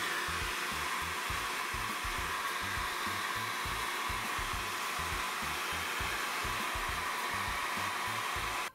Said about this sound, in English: applying a little bit of heat with a hairdryer to the surface